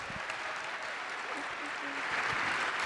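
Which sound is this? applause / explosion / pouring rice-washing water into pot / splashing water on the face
applause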